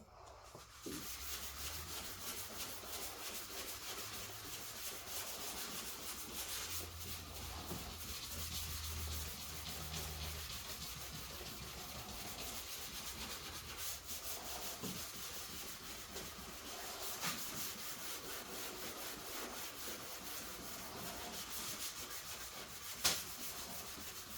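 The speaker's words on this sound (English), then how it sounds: "I'm sanding up to my tape, the tape will get sanded just a little bit" Steady, continuous scratchy rubbing of hand block sanding over a car body panel up to masking tape, fairly quiet and even throughout, with no talking.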